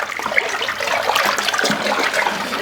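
Malt being stirred into water inside a plastic home-brewing bucket, a steady sloshing, swirling liquid churn close by that continues without pause and with no voices.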